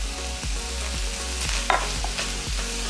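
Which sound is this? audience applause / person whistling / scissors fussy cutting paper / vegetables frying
vegetables frying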